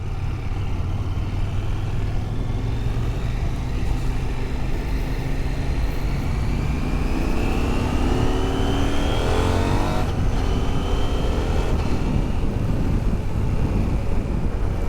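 Svartpilen 801 motorcycle under way, six-speed gearbox with up/down quickshifter, a steady close engine drone that climbs through the revs with quick shifts, wind noise throughout and no voices.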